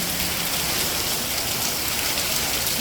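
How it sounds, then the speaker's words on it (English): Heavy thunderstorm rain pours steadily onto a street, a dense, loud, unbroken hiss of water with no gaps. "the rain is not stopping"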